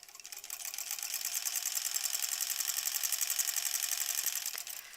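A sewing machine back tacks a seam on a stuffed bunny toy, a fast bright mechanical whir starting up, holding steady for several seconds and then slowing to a stop, close and alone.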